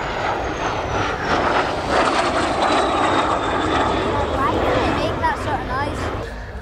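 A MiG-15 jet fighter flies past at an airshow. Its engine gives a loud, sustained roar with a whining tone that slowly falls in pitch, and a crowd murmurs faintly underneath.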